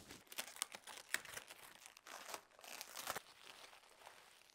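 Plastic packaging around a Cricut Explore 3 cutting machine being unwrapped, a quiet close-up run of crinkling and rustling with sharp crackles and short pauses.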